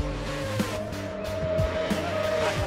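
Racing engines roar continuously on the Isle of Man TT mountain course, steady high-revving drone with shifting pitch as machines sweep past, loud and close with no talk over it.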